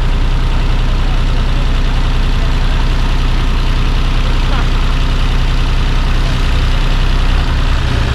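A John Deere 5310 tractor strains to pull out of deep mud, its engine a loud, continuous, dense roar held close throughout.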